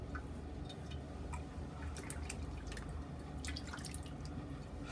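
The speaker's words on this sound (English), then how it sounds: "there's a lot of whiskers in the water where I'm rinsing the razor off" Faint water drips and small splashes in a sink while a safety razor is rinsed of whiskers, soft scattered ticks over a low background hum, with no talking.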